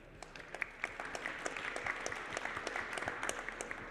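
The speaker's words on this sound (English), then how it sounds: "So a big hand of applause for Willem." Sustained applause from a conference audience at an aerospace composites industry event, steady dense clapping heard from a distance at a moderate level, with no voices over it.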